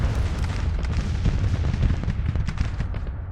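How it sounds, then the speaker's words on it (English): Cannon artillery fire in the Civil War strategy video game Grand Tactician, a dense barrage of booms and cracks layered over a continuous low rumble, loud and sustained with no talking. "I fear we may be getting absolutely pounded by enemy cannons here"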